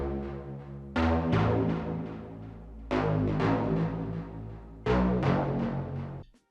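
A solo synth bass line in a house track plays sustained notes in three phrases, each starting sharply and slowly fading, with no other instruments.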